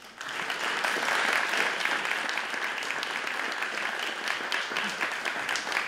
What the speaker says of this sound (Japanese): 見事勝利しました両選手に今一度大きな拍手をお願いします